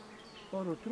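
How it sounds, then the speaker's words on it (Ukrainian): A few honey bees buzz close by in a hive box, a steady drone rising and wavering in short bursts, no voices present. "можливо з десяток бджолок залишилося в корпусі"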